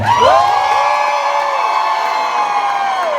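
A crowd at a convention contest cheers loudly in a single sustained burst, whoops and shouts rising together and holding for several seconds before tapering slightly.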